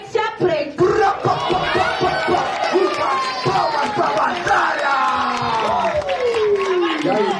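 Crowd at the Batalha da Aldeia freestyle rap battle cheers and claps loudly, with excited shouting voices rising over the noise throughout.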